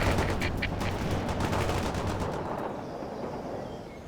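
A machine gun fires rapid bursts in the World in Conflict video game, a dense rattle of shots that later thins and fades into a rumbling battlefield background.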